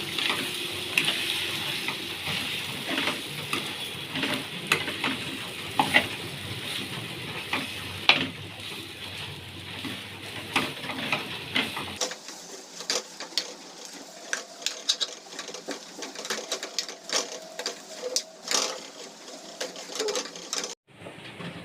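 Bread patties filling mixture being stirred in a pan for a street-food style recipe, a steady scraping and soft sizzling texture running throughout, with a quieter, thinner stretch in the second half.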